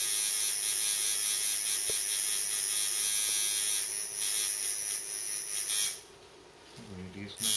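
A tattoo machine buzzes steadily and loudly while the needle works on skin, a continuous electric whine that carries on for several seconds before dropping away near the end, with faint voices in the background.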